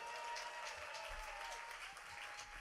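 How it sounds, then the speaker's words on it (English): An audience at a jazz concert applauds the musicians with steady, fairly distant crowd clapping that holds at an even level throughout. "on les applaudit encore un peu quand même."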